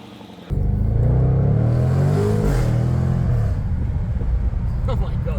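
A V8 car engine kicks in loudly and revs up during a test drive, its deep rumble rising and falling in pitch close by, with a voice faintly mixed in.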